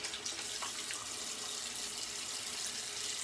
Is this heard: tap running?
yes